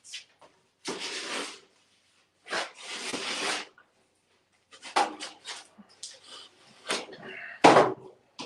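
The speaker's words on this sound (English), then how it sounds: "It's called a rasp, and it's a very handy tool." A hand rasp files the edge of ceiling drywall in several separate scraping strokes, each a short gritty burst close by with silent pauses between them.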